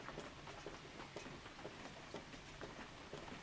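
Soft, steady rain patters continuously at a quiet level, with dense small drops and no voices.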